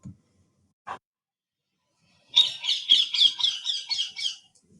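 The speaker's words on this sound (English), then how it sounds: "Now let's hear the sounds of parrot." A parrot lets out a harsh, rapid run of raspy squawks, close and loud, after a couple of faint isolated clicks.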